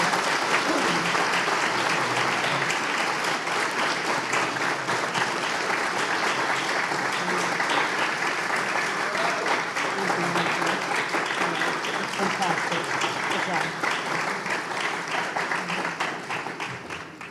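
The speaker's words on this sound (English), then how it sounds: "Let's give them a round of applause." Steady, dense applause from a large audience at a tech week opening ceremony in Honolulu, sustained for the whole stretch and tapering slightly near the end.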